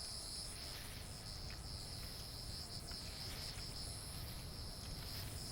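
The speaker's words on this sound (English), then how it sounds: "Oh, is that a cicada right there?" A continuous high-pitched cicada drone in the video game Vintage Story buzzes steadily, with a faint pulsing texture and no voices.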